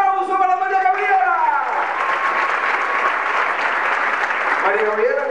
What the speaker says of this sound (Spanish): ¡Otra vez el aplauso para María Gabriela!